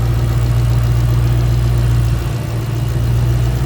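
A 2012 Ford Mustang GT coupe with a Roush supercharged engine idles loud and close, a deep steady rumble with a brief dip before it settles back.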